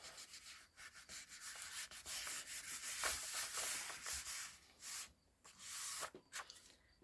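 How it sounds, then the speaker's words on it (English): Steady rubbing and sanding scrapes on paper crafting pieces, continuous and close, with a few brief pauses between strokes; no one speaks. "Give it a rub down."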